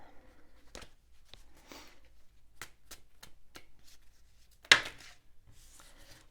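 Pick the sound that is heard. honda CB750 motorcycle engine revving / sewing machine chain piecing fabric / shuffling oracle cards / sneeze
shuffling oracle cards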